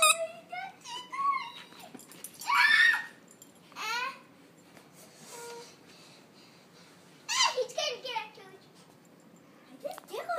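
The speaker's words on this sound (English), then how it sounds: "It's the puppy!" A puppy whimpers and yips in short bursts among children's excited chatter and babbling, with the high whines rising and falling in several clusters.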